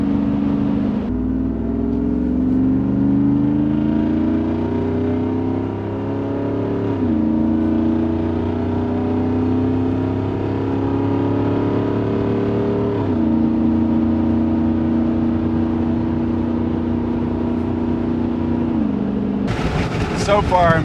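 Jeep fitted with portal axles cruising on an interstate, heard from inside as a steady, droning engine and road hum with occasional shifts in pitch as speed changes, loud and continuous throughout.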